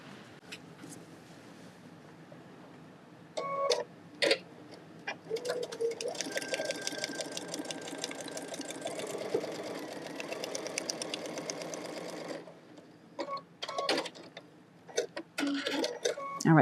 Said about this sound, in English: now I'm going to sew this with a 1/4 inch seam, and I'm going to follow this line as well as the 1/4 inch on my foot